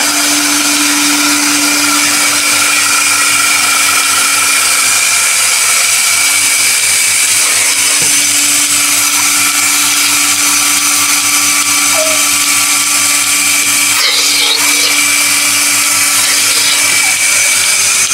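A milking machine runs on a cow, a loud continuous mechanical whir and hum that holds steady throughout, with a few brief clanks partway through.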